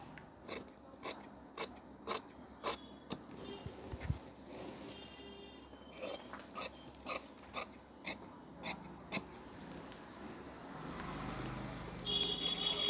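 Scissors snip through blouse fabric in a regular run of crisp, close cuts about every half second, with a pause midway and soft fabric rustling at the end.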